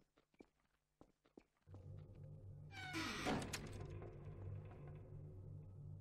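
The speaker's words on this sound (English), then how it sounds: "I love the sound of the creaks and the hums." Creaking from the Tenth Doctor's TARDIS interior in Garry's Mod: soft knocks and thuds open quietly, then a steady low hum sets in with a bright, sweeping creak rising over it midway.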